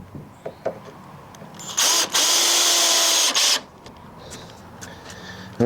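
A power drill drives a screw into a pallet-wood table leg in one loud, steady burst of about two seconds, after which the room goes back to quiet.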